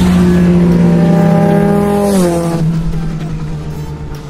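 A Kawasaki Ninja 1000 motorcycle with a Scorpion full-system exhaust, very loud and close, holding a steady high rev before the pitch drops and the engine note fades as it passes away.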